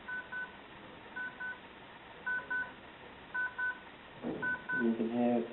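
A Majority Milton CB30-DAB bedside DAB alarm clock radio sounds its alarm as evenly spaced pairs of electronic beeps repeating about once a second, with a voice near the end.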